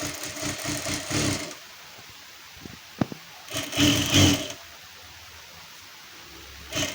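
A sewing machine stitches a blouse lining in a Marathi tailoring lesson, running in short motor bursts at the start and again around the middle, with quieter pauses between.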